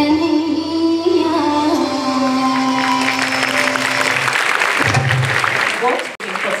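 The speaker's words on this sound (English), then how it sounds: "A round of applause for Rania." Loud applause from an audience at an awards ceremony for a short film contest, steady broadband clapping that carries on over a sustained musical tone and fades slightly near the end.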